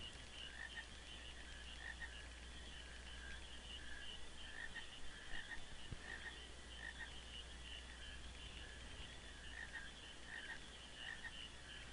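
Frogs croak steadily in a game scene from Final Fantasy IX, a dense overlapping chorus of ribbits held at an even level throughout, with a low ambient hum underneath and no talk.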